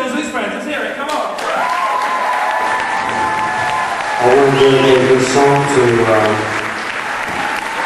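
An audience applauds and cheers for a performer and friends at a live music show. The crowd noise is loud and continuous, and it swells near the middle as a voice speaks over it.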